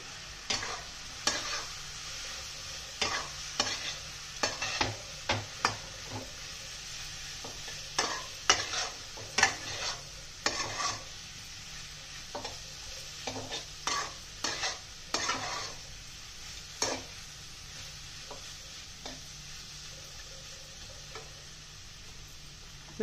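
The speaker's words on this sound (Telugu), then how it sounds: "ఇప్పుడు మనం ముందుగా కట్ చేసి పెట్టుకున్న అరటికాయ ముక్కల్ని దీంట్లో వేసేస్తున్నాను. బాగా కలుపుకొని స్లో ఫ్లేమ్లో పెట్టుకొని" Raw plantain pieces tossed and stirred in a pan on a slow flame, repeated close scraping strokes of a spoon against the metal over a soft sizzle, coming in irregular bursts.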